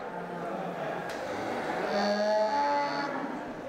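Cattle low and moo at a busy Korean livestock market in Naju, several drawn-out calls rising over a steady background hubbub of the sale yard.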